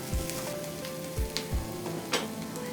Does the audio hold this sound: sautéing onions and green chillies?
yes